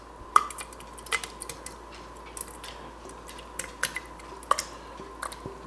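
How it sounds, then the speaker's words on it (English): Light metallic clinks and taps of a spoon against a blender bottle while fresh tomato salsa is spooned in, sparse and irregular, close by in a quiet room. "We're gonna go ahead and spoon that in there into our blender bottle."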